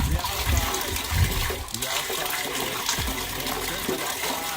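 Water poured into a basin while laundry is washed by hand outdoors on a Saturday morning in Ghana, a steady gushing splash with music playing in the background.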